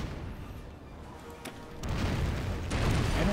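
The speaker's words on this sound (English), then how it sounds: "One of your ships is under fire." Cannon fire on a ship during a naval battle in the strategy game Anno 1404: a low, dull booming that swells louder in the second half as broadband rumble and blasts build.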